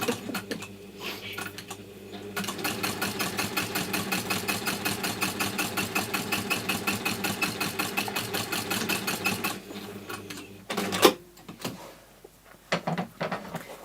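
A sewing machine stitches a PU trim case in a workshop in one long, fast, evenly pulsing run of needle strokes lasting several seconds, then stops, followed by a few quieter handling knocks and brief short bursts.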